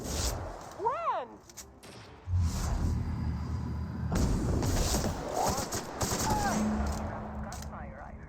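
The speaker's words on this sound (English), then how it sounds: "Gunfire, I heard." Bursts of video game gunfire mixed with rumbling booms and whooshes, heavy and sustained through most of the stretch, with an in-game voice talking over it.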